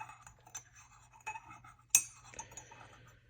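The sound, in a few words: spoon stirring coffee in a cup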